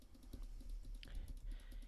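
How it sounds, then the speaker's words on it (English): Typing on a computer keyboard with occasional mouse use: quick, close keystroke clicks in an uneven but steady rhythm throughout, with no voice. "this is with me typing on a keyboard and talking at the same time using the mouse"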